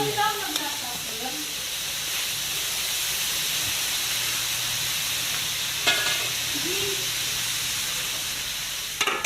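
Chicken cubes sizzle and fry steadily in a pan for chopsuey, a continuous hiss with occasional stirring clatter and faint voices in the background.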